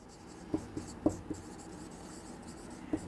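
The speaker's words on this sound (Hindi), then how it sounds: "मैं फिर से एक बार लिख देती हूं" Faint, close pen strokes as a formula is written by hand, a handful of soft scratchy taps and scrapes at irregular intervals over quiet room tone.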